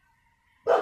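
One abrupt bark from a dog bursts out at the very end after near silence.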